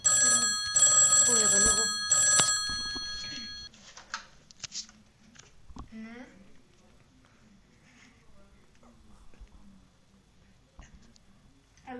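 A telephone bell rings in three loud, close bursts over the first few seconds, then stops and goes unanswered, leaving faint room noise and quiet talk.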